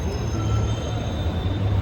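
Metro train at a station, a steady low rumble with a faint high whine of wheels or motors, loud and continuous without voices.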